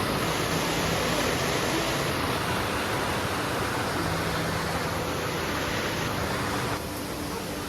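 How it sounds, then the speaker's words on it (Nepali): A clear stream in a park rushes steadily nearby, a dense unbroken wash of flowing water with no voices heard. "यहाँ मुनि चाहिँ खोला पनि बगिरहेको रहेछ एकदम क्लियर पानी आएको छ"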